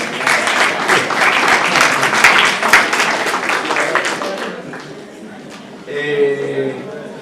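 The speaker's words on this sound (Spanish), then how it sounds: "aquí sigue pidiendo aplausos" Lecture-hall audience applause, loud and dense for about five seconds, then tapering off into quieter scattered claps, with a voice starting to talk near the end.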